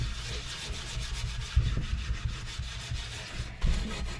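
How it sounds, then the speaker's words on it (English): Rhythmic scrubbing strokes on a rusty cast iron pan being cleaned up, close and gritty, with a few heavier knocks between the repeated rubbing passes. "so we're going to go ahead and scrub this"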